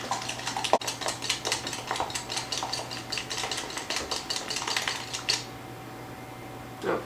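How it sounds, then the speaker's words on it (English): A whisk or beater rapidly beating eggs and vanilla in a bowl for a Hungarian nut roll filling, a quick steady clatter of metal against the bowl that stops near the five-second mark, leaving quiet room tone. "keep beating them until they're frothy"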